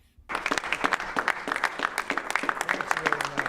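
Audience clapping starts abruptly after a short silence, then continues as a scattered mix of sharp individual claps from a small crowd, moderately close.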